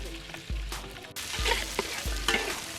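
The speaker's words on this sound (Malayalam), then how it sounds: "കുറച്ച് വെളിച്ചെണ്ണ ഒഴിച്ച് അതൊന്ന് തിളയ്ക്കുമ്പോൾ നമ്മുടെ കൊത്തി അരിഞ്ഞ് വെച്ചിരിക്കുന്ന വെളുത്തുള്ളി ഇഞ്ചി പീസുകൾ അങ്ങോട്ട് ചേർത്ത് ഒന്ന് വഴറ്റിയെടുക്കാം" Chopped garlic and ginger sauté in hot coconut oil in an uruli, a steady close sizzle broken by three sharp scraping stirs of a spoon against the pan.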